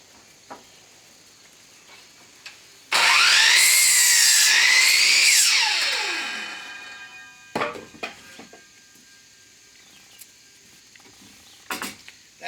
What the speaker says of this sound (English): That stud is cut to length and ready to go.